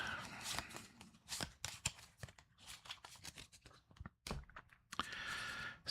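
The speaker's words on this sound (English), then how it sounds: "So everyone's deck is shuffled." Decks of cards for the Trudvang Legends board game are shuffled by hand in quick riffling bursts with pauses between, close and fairly quiet.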